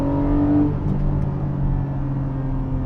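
A 2021 Porsche 718 Cayman GTS 4.0 with its flat-six engine gives a steady, loud, close-up drone that settles from a brief rising rev into a constant rumbling hum, with no voices.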